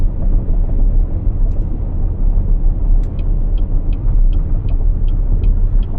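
Steady low road rumble of a BYD Sealion 6 cruising at speed on the freeway, with a faint run of evenly spaced high ticks near the end.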